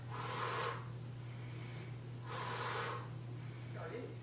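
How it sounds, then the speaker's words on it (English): Two strong exhalations during an arm workout, each a broad airy burst lasting under a second, spaced about two seconds apart over a steady low hum, with a fainter breath between them. "every time you exert your muscles or stress your muscles, you're going to breathe out as follows."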